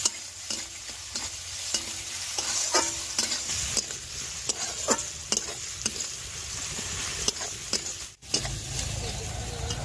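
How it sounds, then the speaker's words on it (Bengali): Chopped onion frying in a pan, a continuous sizzle broken by repeated scraping strokes of a stirring spoon, close and moderately loud. "এবার পেঁয়াজ কুচিটা দিয়ে দেব। একটু লাল করে ভেজে নেব।"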